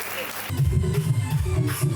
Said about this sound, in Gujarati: એકવાર જોરદાર તાળીઓ થઈ છે